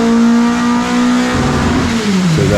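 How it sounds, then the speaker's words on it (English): A car engine on a rolling road dynamometer revs loud and close, a strong steady drone that climbs and shifts in pitch toward the end. "once it hits the rev limiter, which is not yet, the rev's just climbing still at the moment"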